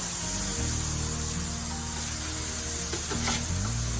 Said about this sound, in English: Put them on the griddle.